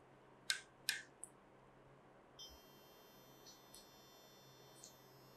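Faint, quiet room with a few short electronic chirps and clicks, followed by a thin, high continuous tone from a water-sensor buzzer set off by wetting, sounding steadily.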